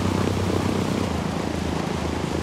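Airplane engine in a video game drones steadily at full loudness as the plane takes off, a dense continuous roar with a low hum and no breaks.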